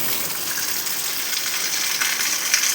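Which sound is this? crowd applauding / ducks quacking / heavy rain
heavy rain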